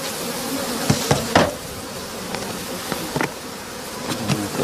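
Honey bees buzzing around a hive that has swarmed, a steady close drone with individual bees zipping past the microphone in brief louder passes, with no voices.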